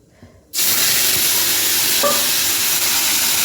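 Chopped banana flower drops into hot oil in a pan and erupts into a loud, steady sizzle, with a brief quiet moment of handling beforehand and a light clink of a utensil partway through.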